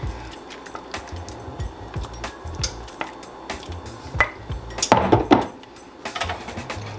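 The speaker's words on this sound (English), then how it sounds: "we're just gonna mix this into the bigger mix" A spoon works a cheese and sour cream mixture into a spinach artichoke dip, making repeated wet squishing and scraping strokes against a bowl with occasional utensil clinks, close and steady.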